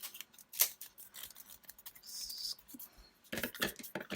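Scissors trim paper in a December Daily scrapbook page, giving a few quiet, crisp snips and rustles close by; brief movement noises sit between the cuts.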